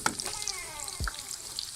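Onions dropped into hot ghee in a pan, giving a soft, close sizzle with a brief thud as they land, quiet and short.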